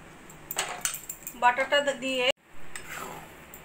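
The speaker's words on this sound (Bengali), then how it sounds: "বাটারটা দিয়েও ভালো করে মিশিয়ে নিয়ে আমি গ্যাসটা বন্ধ করে দেব।" Dalia khichuri with cauliflower and potato being stirred in a pot after a cube of butter goes in, with a few scraping clinks of the spoon against the pot and speech-like sounds in the background.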